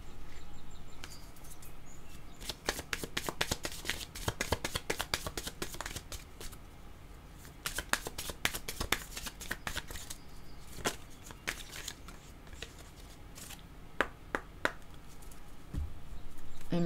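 A deck of tarot cards is shuffled up close, with bursts of crisp riffling and flicking separated by quieter handling gaps, and no speech.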